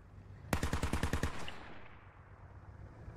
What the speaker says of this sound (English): BTR is shooting something.